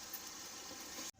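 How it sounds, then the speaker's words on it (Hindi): Water poured into a pan of keema that has been fried with tomatoes makes a soft, steady hissing gush throughout, then cuts off abruptly. "अब मैं इसमें पानी ऐड करूँगी"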